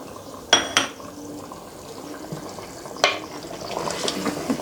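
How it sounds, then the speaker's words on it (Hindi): Mutton cooking in a pot for white shahi quorma as green chilies go in, two sharp utensil knocks early and another later over a faint bubbling simmer that swells toward the end, with no talk. "ये देखें हमारा गोश्त पक रहा है"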